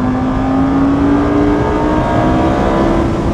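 A Lamborghini Huracán accelerating hard on a track, its engine a loud, steady, rising roar that holds close and continuous throughout with a climbing pitch.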